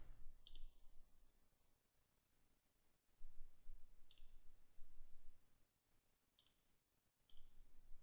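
Computer mouse clicks while configuring Citrix plug-ins, a few sharp, faint clicks spaced apart, some in quick pairs, over a quiet background.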